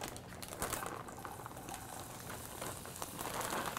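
Onions sizzling in hot olive oil, a steady bright crackle and hiss close by with irregular pops, fairly quiet.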